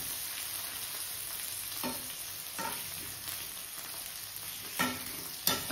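Potato pieces frying in a pan for a fish curry, a soft steady sizzle with occasional scraping stirs and a couple of sharper clinks near the end, no voices.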